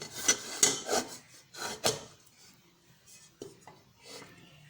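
A metal stand is set into a kadhai (wok) and zeera biscuits are placed on it, giving a few sharp metallic scrapes and clinks close up, then softer intermittent rubbing and taps.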